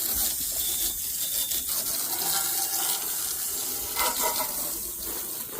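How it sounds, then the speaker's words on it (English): Garden hose water sprays hard and steadily during cleanup after mixing mud, a loud, continuous, close-up hiss and splatter that runs unbroken throughout. "This hose is pretty strong."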